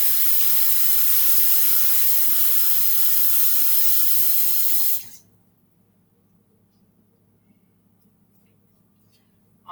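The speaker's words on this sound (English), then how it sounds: "get my hands washed again" Tap water runs steadily into a sink while hands are washed, a loud even hiss for about five seconds that then shuts off, leaving near silence.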